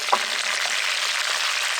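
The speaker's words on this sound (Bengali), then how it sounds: "দেখুন বন্ধুরা আমাদের চিকেন ফ্রাই অর্ধেক ভাজা হয়ে গেছে" KFC-style coated chicken half-fried in oil, a continuous crackling sizzle at moderate loudness, steady and close with no voices.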